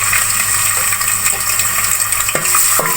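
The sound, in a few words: garlic paste frying for beef brain masala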